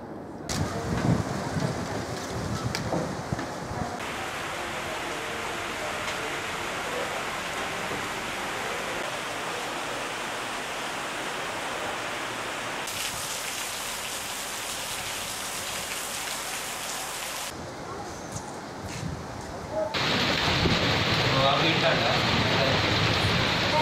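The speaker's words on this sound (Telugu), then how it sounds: "జిల్లా కేంద్రంలో ఉదయం ఎదురుగాలితో కూడినటువంటి వర్షం కొనసాగింది." Morning rain driven by a strong headwind pours steadily over a district town, a dense continuous hiss that swells louder near the end, with wind buffeting throughout.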